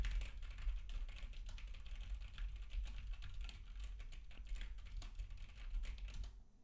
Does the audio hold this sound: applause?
no